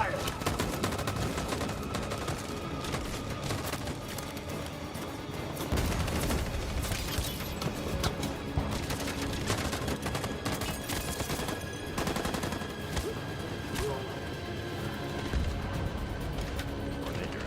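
Sustained volleys of gunfire crackle and rattle after a shouted order to fire, dense overlapping shots and machine-gun bursts with mechanical clatter, heavy throughout with louder surges midway.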